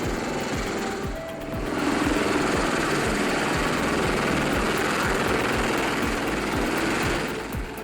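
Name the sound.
V-22 Osprey spinning rotors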